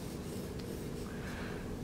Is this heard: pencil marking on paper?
yes